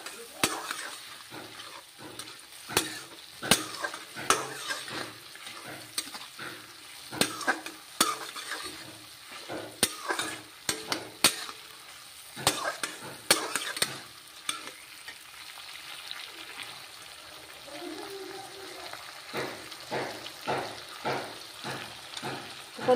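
Masala curry of rahu fish fries in oil in a pan while a utensil stirs it, scraping and knocking in irregular bursts over a steady close sizzle.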